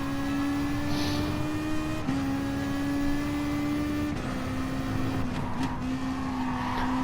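Race car engine in a racing video game, an FIA manufacturers series event at the Maggiore circuit, holds a loud, steady high-revving whine with brief dips at upshifts about every two seconds, heard alone without talk.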